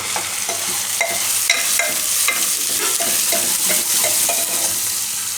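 Onions sizzle and fry in oil inside a pressure cooker for a Gujarati soya chunk curry, a steady loud crackle broken by regular scraping strokes of a spoon stirring, with no talking.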